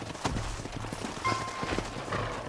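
Horses in the Red Dead Redemption video game clip-clop with a few close, uneven hoof strikes over a short stretch, set against a faint background hum.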